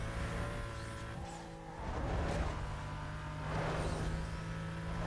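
Racing cars in the video game Need for Speed Most Wanted, with a steady engine roar and tire noise swelling as the cars push ahead, alone without talk.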